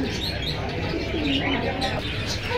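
Pigeons kept for sale at the Jinjira bazaar pigeon market give soft, low cooing calls. The coos are fairly close and set against a busy, noisy market background.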